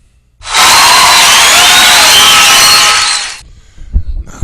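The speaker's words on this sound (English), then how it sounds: "Applaud yourself." Studio audience on a talk show breaks into loud applause and cheering, a dense roar lasting about three seconds before cutting off abruptly.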